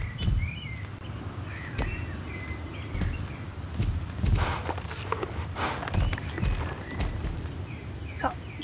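Horse hooves clip-clop at a quick, steady trot in the video game Star Stable Online, with faint birdsong and a voice briefly heard over the rhythm.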